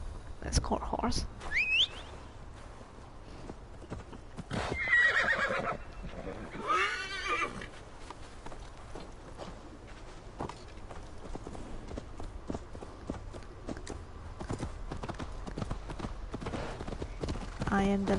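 Horse summoned in Assassin's Creed Valhalla, with a whistle followed by a loud neigh and then hoofbeats trotting in, while a person talks over it at times.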